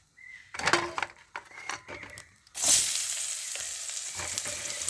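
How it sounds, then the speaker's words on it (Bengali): Sliced onions drop into hot oil in a wok. A few scraping, clattering stirs come first, then a loud sustained sizzle builds and continues close by. "পেঁয়াজগুলো ভেজে নেব।"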